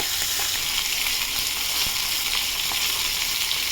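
Fish frying in a pan gives a steady, loud, close sizzle with faint crackles throughout and no talking over it.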